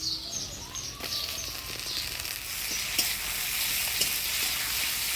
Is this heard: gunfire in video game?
no